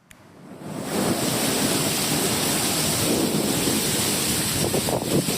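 Heavy rain pours down with strong wind during a Sunday afternoon storm in Cibinong, Bogor, building quickly into a loud, continuous roar with rumbling thunder underneath and no voices.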